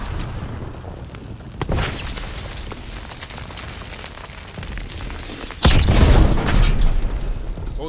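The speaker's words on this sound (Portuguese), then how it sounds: "Cuidado, explosão!" A Call of Duty: World at War battle scene with a dull boom early on, then a louder explosion bursting near the end amid ongoing gunfire and combat noise.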